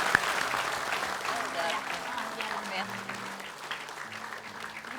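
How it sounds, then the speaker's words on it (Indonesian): Indoor audience clapping in a steady patter after a woman juggles three balls on a television challenge show, fairly quiet, with a short spoken word at the start and talk continuing over it. "Oke, kita kasih tepuk tangan dulu."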